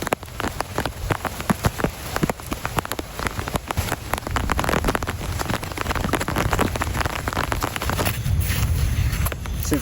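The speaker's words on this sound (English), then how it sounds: "It's starting to rain." Steady rain falls outdoors in a yard, a dense, constant patter of drops on surfaces that keeps going at even, fairly loud strength throughout.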